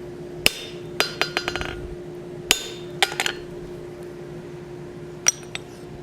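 Blacksmith hammer blows on hot steel while drawing down a tenon on a plant hanger, a dozen or so sharp ringing strikes in uneven bursts with brief pauses between groups, close and clear with no talking.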